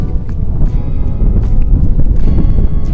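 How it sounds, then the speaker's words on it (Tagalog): Strong typhoon wind roars at sea off Baler, Aurora during a monsoon storm, a loud, constant buffeting rush hitting the microphone hard with low rumbling gusts throughout and no clear voices. "napakalakas ng hangin"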